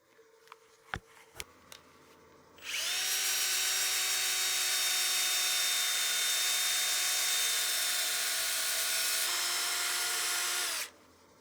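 A few sharp taps come first, then a power-driven whir of 320-grit sandpaper on a spinning, partially seasoned turned wooden bowl runs steadily and loud for about eight seconds before cutting off.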